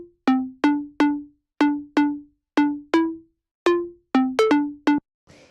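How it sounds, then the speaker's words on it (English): Square wave synth lead programmed in Massive for deep house, playing short plucky staccato notes in a steady bouncing rhythm of about a dozen hits with brief gaps, bright and upfront, with no voices. "So the way I made this sound is basically it's a square wave with some just simple stuff going on."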